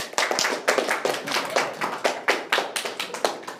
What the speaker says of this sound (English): Yes, you can applaud, that's fine.